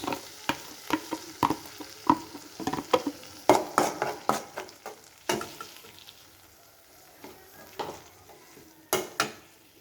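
Onion, garlic and green chilli paste frying in hot oil, a close sizzle punctuated by a quick run of sharp spatula scrapes and taps that thin out toward the end.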